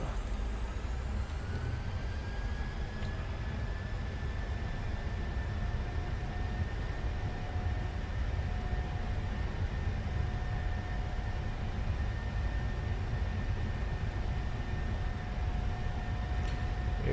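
Twin CFM engines of a Southwest Airlines Boeing 737-700 spooling to takeoff thrust in a PMDG flight simulator, a loud steady roar with a rising whine that settles into a sustained high tone, continuous and alone with no talk.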